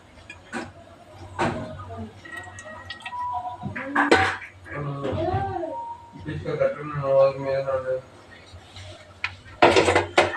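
A metal kadai is set on the stove and oil added for a beerakaya (ridge gourd) fry, heard as a few clanks of cookware near the start and end while someone talks throughout.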